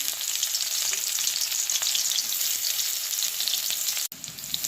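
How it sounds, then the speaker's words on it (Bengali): Onions sizzling steadily in hot oil in a wok, a loud continuous crackling fry with a brief dip near the end. "কড়াতে তেল দিয়ে দিয়েছি, দিয়ে দিলাম পেঁয়াজ"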